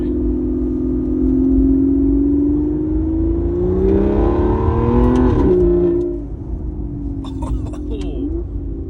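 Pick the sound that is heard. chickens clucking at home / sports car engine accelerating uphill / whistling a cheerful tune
sports car engine accelerating uphill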